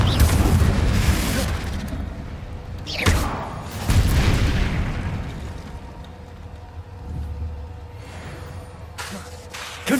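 Repeated Confringo blast spells in Hogwarts Legacy, set in Spinners Cavern, boom out as loud, close explosive bursts, with big thuds near the start and middle and smaller pops toward the end.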